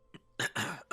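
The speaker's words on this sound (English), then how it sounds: "Sorry, coughing." A person coughs three times in quick succession, close and fairly loud, after a faint short sound at the start.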